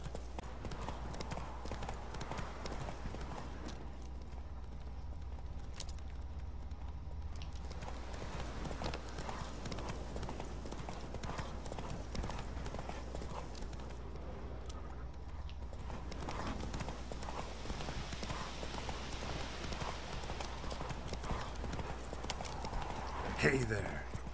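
Roach the horse's hooves clip-clop steadily in The Witcher 3, a continuous walking rhythm under game music and ambience, with a voice speaking over it.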